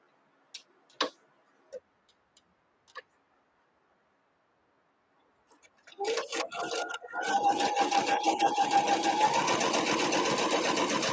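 Sewing machine stitching a quilt block with a recently changed needle, a few faint clicks first, then a loud rapid mechanical whirring and ticking run that starts up and keeps going.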